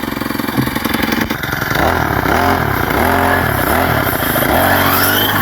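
A grass cutter's small engine runs loud and close, idling roughly, then revving in repeated surges that climb and drop.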